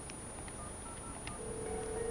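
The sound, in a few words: office telephone dialing an extension, DTMF tones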